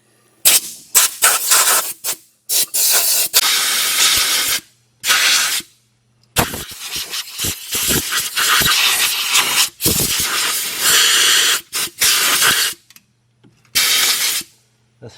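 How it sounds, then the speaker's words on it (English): Compressed air from a hose blows grass and debris out from under a Kubota ZG123S zero turn mower, loud hissing bursts starting and stopping repeatedly, some long, some short, with no talking. "get yourself an air hose and start cleaning all that grass and stuff under there"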